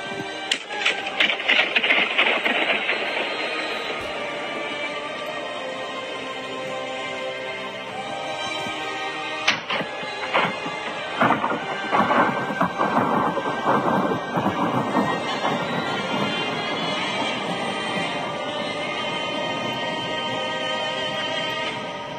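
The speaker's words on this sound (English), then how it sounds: "Here is a video of a guy blowing a balloon inside a nuclear power plant." A balloon popped inside a nuclear power plant, slowed down so the burst becomes a long, loud, thunder-like rumble with crackling rolls that keep booming and fading across the whole stretch, with no voices.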